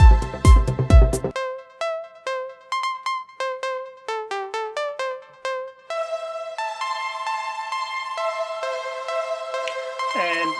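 Synth pluck in Reaper, first a short thick burst, then a run of clean bright plucked notes with quick decays, followed by the same plucks washed in reverb that blurs them into a sustained ringing tail, no talking.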